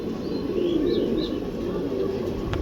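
Pigeons cooing softly over a low background hum, a few gentle repeated calls at moderate distance with no talking.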